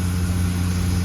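The massive 765 steam locomotive sits close by, giving off a loud, steady low rumble and hum that holds evenly for a brief moment with no voices.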